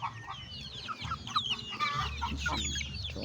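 Chickens clucking steadily on a poultry farm, a first batch of growing birds, with overlapping calls at close range over a low background hum, no talk.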